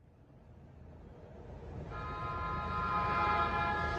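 Cartoon train running, a rumbling rolling noise that builds steadily louder, joined midway by a sustained tonal whistle or horn-like drone.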